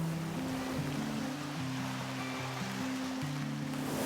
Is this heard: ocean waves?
yes